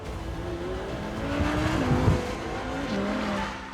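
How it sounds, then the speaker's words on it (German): An Audi R8 V10 Plus sports car of over 600 horsepower lapping a race track, its engine droning and shifting pitch as it swells past, with a brief tire squeal in the corner. "Auf der Rennstrecke lässt sich der R8 V10 Plus so spielerisch leicht und schnell bewegen"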